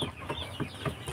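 A Rhode Island Red chicken on a free-range farm clucks in a steady series of short, close, moderately loud bursts, with no talking.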